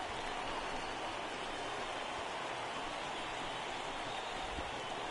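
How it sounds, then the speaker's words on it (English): Steady rain hisses down during a baseball video game, a uniform, faint, unbroken patter with no voices or other sounds. "It's raining cats and dogs out there."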